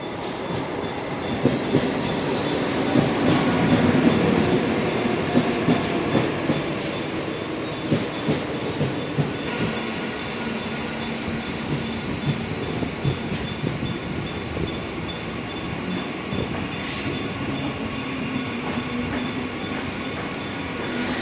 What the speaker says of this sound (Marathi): बघा इकडे आता ट्रेन आलेली आहे आणि आता ही ट्रेन पकडून